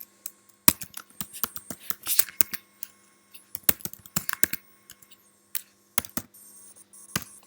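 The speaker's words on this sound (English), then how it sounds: "so now I'm typing on my MacBook" Typing on a MacBook keyboard, heard up close as irregular bursts of crisp key clicks separated by short pauses, with no voices.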